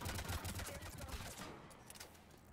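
Rapid gunfire in the video game Mass Effect 3 crackles in a dense, continuous fusillade that fades after about a second and a half, fairly quiet overall.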